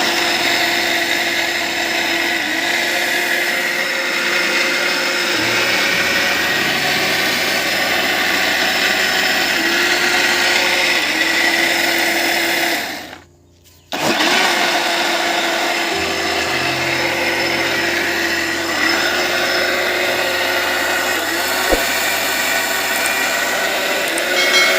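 A blender spinning chitoi pitha rice batter with a little added water, running as a steady loud motor whir that stops briefly partway through, then starts again and runs on.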